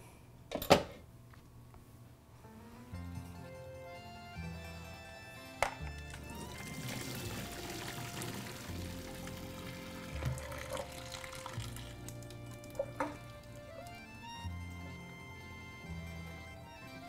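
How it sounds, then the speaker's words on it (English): Pasta cooking water pours steadily into a metal sink for several seconds as it is drained, splashing and gurgling, with a few clanks and knocks of cookware along the way. "I'm going to go ahead and drain out my water."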